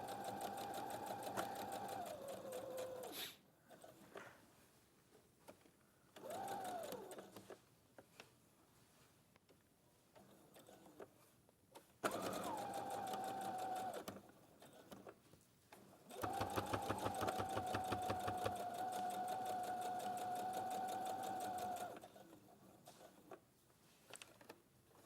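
A sewing machine stitches across the top of a lined pocket in several loud, steady runs of rapid whirring, each lasting a few seconds, separated by quiet pauses. The longest run comes near the end.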